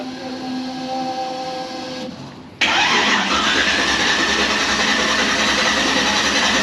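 An engine cranks briefly, goes quiet for a moment, then catches and settles into a loud, steady running roar.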